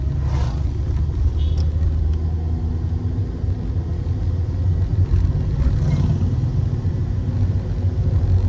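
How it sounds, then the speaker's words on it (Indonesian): A Daihatsu Gran Max passes on a coastal road near Pacitan in Java, heard as a steady loud road rumble and engine drone from inside a moving vehicle, with a voice talking briefly. "Ya, sekali papasan mobil Grand Max."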